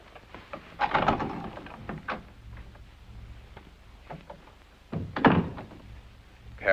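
Fists thump on a wooden door in a 1952 comedy scene, with a scattering of dull knocks followed by a louder cluster of blows near the end, heard close and without speech.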